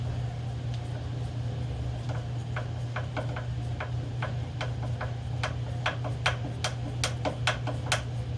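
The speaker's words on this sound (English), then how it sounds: "I'll just start it with the screwdriver." Hand screwdriver starting a screw into a wooden patio table, heard as a series of light, sharp ticks that speed up and grow more regular over a constant low hum from the workshop.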